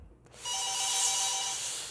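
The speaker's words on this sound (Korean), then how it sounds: "아, 전화가 왔네요." Phone ringtone for an incoming call sounds after a brief quiet moment, a steady electronic tone with a pulsing melodic pattern, loud and close, heard alone without talk.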